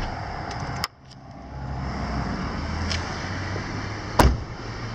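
Trunk of a 2009 Ford Ka 1.0 8-valve two-door being opened, with a sharp click, a brief clunk later on and another louder click near the end over steady background hum.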